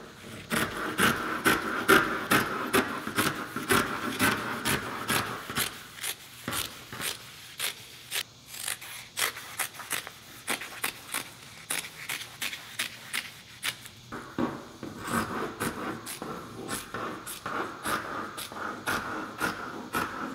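Carbon fiber cloth is cut into pieces for a homemade car intake, giving a long run of crisp, repeated cutting snips and scrapes. They are close and fairly regular, with a short slower stretch midway.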